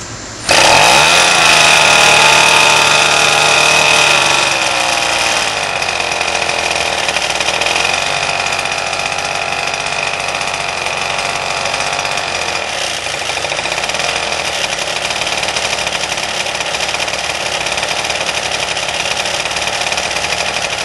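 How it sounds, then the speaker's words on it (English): A Toni Clark G-38 gasoline model aircraft engine driving a propeller starts with a sudden loud burst and then runs close and steady with a buzzing, rattling drone, its pitch shifting slightly as the throttle changes. "we finally got it running. Let's get it started."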